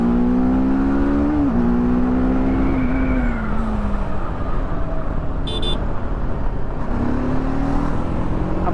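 A TVS Apache RTR 310 motorcycle revs hard close by. Its engine note climbs through the gears, drops at a shift, then rises again in a loud, continuous growl.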